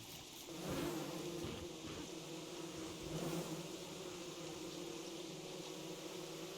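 Bees buzz around a hive in the video game Don't Starve Together, a steady, soft, droning hum that swells slightly at moments and continues throughout, with no talk.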